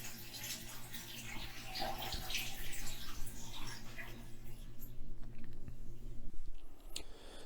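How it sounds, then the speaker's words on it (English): Water rushes and gurgles steadily at close range as a toilet flushes with the lever held down, running continuously, then cuts off with a low drain rumble near the end. "I flush the toilet. And I hold the lever down until the water no longer goes"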